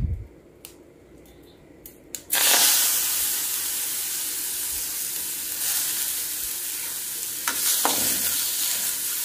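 Carrot and capsicum sauté in a hot pan: a steady hiss and sizzle begins suddenly after a couple of seconds of quieter kitchen sounds and holds loud and close, with a few stirring scrapes near the end.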